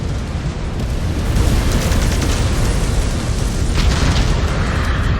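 Enemy mech destroyed in MechWarrior 5, a sustained rumbling explosion with crackling debris bursts, loud and close for several seconds.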